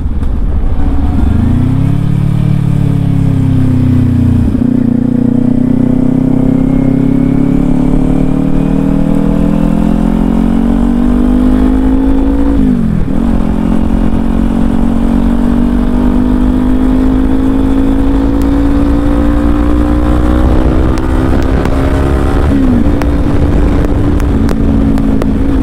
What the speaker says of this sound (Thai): เป็นรถขยะค่อนข้างจะแรงนะ